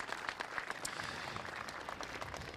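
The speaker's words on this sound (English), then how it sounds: "Big round of applause for the Merewether Surfboard Club" Steady applause from a crowd at a surfing contest final, many hands clapping continuously at a distance, fairly soft and even throughout.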